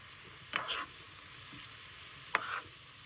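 Broccoli being mixed in a pan for shrimp and broccoli Alfredo, two short scraping stir bursts over a low steady sizzle, fairly close and with no talking.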